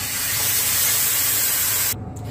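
Milk, 1.5 litres of it, pours into vermicelli roasted in ghee with cardamom for semiya payasam, making a loud, steady rushing hiss that cuts off abruptly near the end, with no voices.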